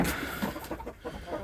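Chickens and a rooster cluck softly at close range in a backyard farm setting, a brief burst of low, choppy fowl calls with no talking.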